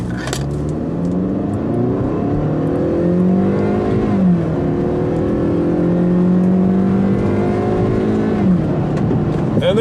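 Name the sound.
2015 Hyundai Sonata 2.0L turbo accelerating hard from brake torque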